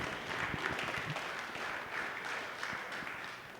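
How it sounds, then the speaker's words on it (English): A convention audience breaks into a round of applause, a moderately distant, sustained patter of many hands clapping that swells slightly and holds steady. "So everybody give my mom a round of applause."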